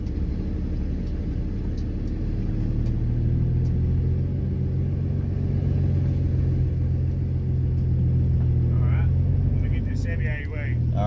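A truck engine rumbles steadily while pulling a dump trailer, a loud low drone with a slight rise in pitch partway through, heard close and continuous for the whole stretch.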